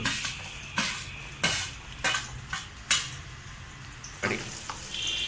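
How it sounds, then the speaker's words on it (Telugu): Chopped onions fry in oil in a kadai for egg biryani, with a soft sizzle underneath and several sharp metallic clinks and scrapes of a spatula against the pan at irregular intervals, without speech. "ఆయిల్లో కట్ చేసుకుని ఉల్లిగడ్డ వేసుకుంటున్నాము"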